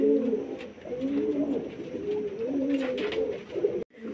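Pigeons cooing in repeated low, rolling phrases close by while bathing in water tins, with faint splashing and scuffling underneath.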